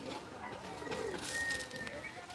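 Soft pigeons cooing in low, murmuring calls, fairly faint against a light background hiss.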